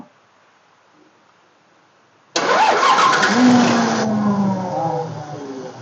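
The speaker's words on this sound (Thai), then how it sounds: "เครื่องตัดมาจากรถเดี๋ยวเรามาฟังเสียงกัน" Hino P11 UB 330-horsepower truck diesel engine, removed from its truck, cranks and catches abruptly after a quiet start, then runs loud and steady nearby with a rough idle settling down.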